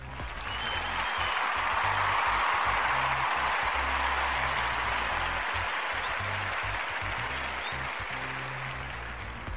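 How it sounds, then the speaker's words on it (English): Sustained audience applause for a musician with a big Atlanta following, dense clapping at steady loudness throughout with no talk over it. "I'm gonna give applause to her."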